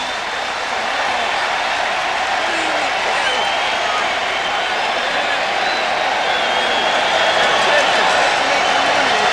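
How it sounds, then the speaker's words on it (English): A baseball stadium crowd at a 1993 Red Sox versus Yankees game, a steady loud roar of cheering that holds for several seconds, with a voice speaking underneath. "And that'll get the crowd going."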